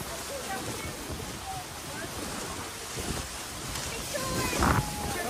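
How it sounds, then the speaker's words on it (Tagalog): Strong wind buffeting the microphone with a rushing roar aboard a boat near Niagara Falls, waves and muffled voices underneath, gusting louder toward the end. "Sobrang hangin"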